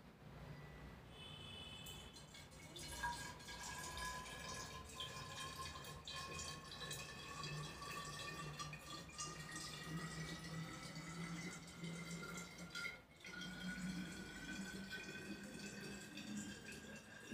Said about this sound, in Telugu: ఈ ఎంటీ దాంట్లో మనం వాటర్ యాడ్ చేద్దాం.